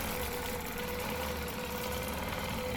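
A sewing machine stitching a stencil quilting design, giving a steady, fast mechanical whirring hum with a fine repeating needle rhythm that holds constant throughout.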